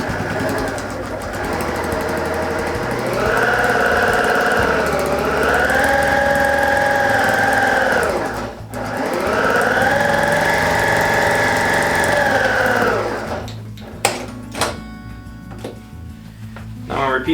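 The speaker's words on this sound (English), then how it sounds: "I'm going to take this over to the machine and sew that 1/4 inch all the way down." Sewing machine stitching a quarter-inch seam down a fabric lunch bag: two long runs of rapid, steady mechanical whirring with rising and falling pitch, separated by a brief pause, then fabric handling clicks and rustles.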